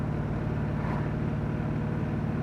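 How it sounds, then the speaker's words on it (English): A 1980 Chevrolet Camaro Z28 on the road, its engine a steady low drone with tonal hum and road rumble, constant and close throughout with no talk. "Let's take it on the drive and show you how it runs."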